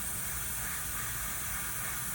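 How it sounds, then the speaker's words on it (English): An airbrush sprays paint onto a surface, a continuous close, even hiss of air with no pauses. "spray onto a surface that you can tell there's going to be paint on it"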